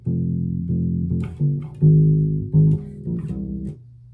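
A bass guitar plays a simple riff of low, sustained plucked notes, one after another with short gaps, loud and clear with no talking.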